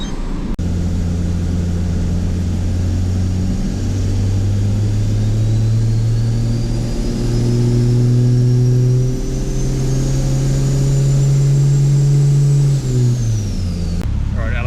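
A car engine revs on a chassis dyno during a run-in tune, pulling in long sustained sweeps that climb steadily, with a brief gear-step partway through before dropping off, loud and close with a faint whine above.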